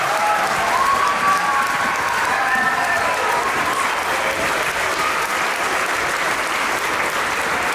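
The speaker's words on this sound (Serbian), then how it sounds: "Molim vas, veliki aplauz." Thunderous clapping fills a concert hall in Novi Sad, a large audience applauding continuously and evenly throughout, with faint tonal traces early on.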